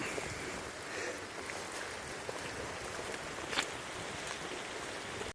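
Heavy rain pouring down outdoors, a steady dense hiss of falling drops with occasional sharper spatters, even and unbroken throughout.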